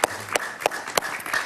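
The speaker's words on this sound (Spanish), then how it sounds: "Un aplauso para Sergio Escobar" Applause from a studio audience on a Spanish-language TV talk show greeting guest Sergio Escobar, a short burst of scattered claps with a few sharp louder hits, moderately near.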